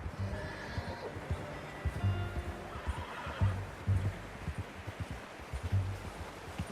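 A horse in the Red Dead Redemption 2 video game neighs and whinnies, with soft hoof clip-clops and low rustling beneath, several short bursts spread across the clip at moderate, fairly close loudness.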